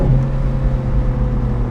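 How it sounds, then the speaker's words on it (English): Ferrari 458 downshifting, a loud, steady low engine rumble with a droning tone reverberating off nearby building walls. "the way it downshifts. You can hear as it ricochets off the building walls."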